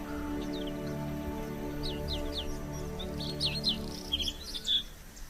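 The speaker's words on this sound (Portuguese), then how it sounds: "Nos extensos caniçais, há agora raras aves canoras." Rare songbirds, with bluethroats in the region, sing in extensive reed beds: a run of quick, high chirps and short tweeting phrases that grow busier toward the end over a steady low background hum.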